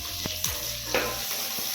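Onions, curry leaves and tomato pieces fry for sambar, a steady close sizzle with a few brief stirring scrapes and clinks, no talk.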